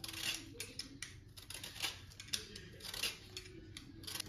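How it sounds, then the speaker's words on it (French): An organic lemon's skin is peeled, giving a series of faint, irregular close scraping and snipping sounds in a quiet kitchen. "je prends un citron bio et je vais éplucher la peau"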